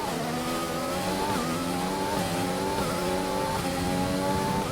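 Formula 1 car engine in the F1 2020 racing game, screaming at high revs with rising and falling pitch as the car loses grip and spins out, loud and steady throughout with no talking.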